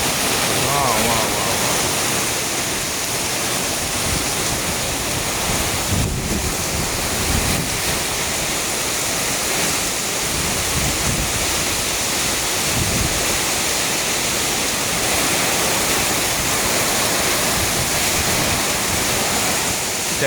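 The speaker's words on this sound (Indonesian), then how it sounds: "Tiba-tiba aja mendung datang, angin besar kayak gini, hujan." Strong wind and heavy rain from a sudden storm in Surabaya, Indonesia, roar as a steady, dense broadband rush that fills the whole stretch with gusty swells and no quiet moments.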